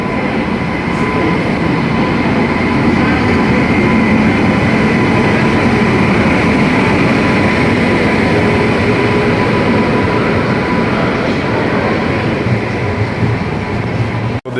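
Steady loud rumble and rattle inside the moving 12875 Neelanchal Express passenger train, continuous wheel and carriage noise with faint clickety-clack throughout, close and unbroken.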